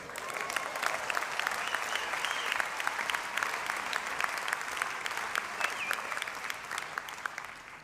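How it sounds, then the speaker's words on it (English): A union rally crowd applauds steadily in a dense, even wash of clapping that holds for several seconds at moderate loudness, with a few scattered cheers. "Round of applause for her."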